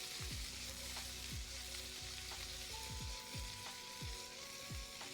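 A steak sizzles in a pan as butter is worked in, giving a continuous close hiss with repeated spoon or spatula scrapes and clinks against the pan at a loose, irregular rhythm, no talk over it.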